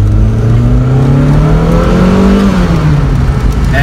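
A 1990 Lancia Delta Integrale's engine runs loud and close, rising in pitch as it revs up and then easing back down, with a steady rumble throughout.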